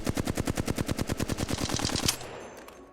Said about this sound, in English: if I take my flatline and I move in a circle like this while I'm shooting